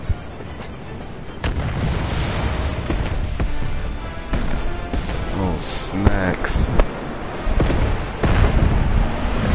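Booming explosions and blasts go off at intervals during Final Fantasy 7 Remake gameplay, mixed with game sound effects, while a player talks briefly over them.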